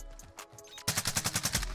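Gunfire in Call of Duty Warzone: a few scattered shots, then a rapid automatic burst of about nine rounds in quick, even succession, fairly faint in the game mix.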